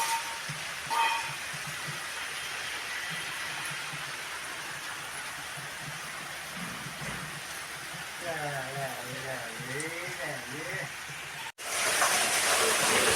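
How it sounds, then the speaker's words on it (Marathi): Heavy rain pours down in a steady broad hiss, with a faint low thump early and a voice speaking quietly beneath near the end, then an abrupt cut to louder rain. "तर बघा, असा जोराचा पाऊस पडतोय."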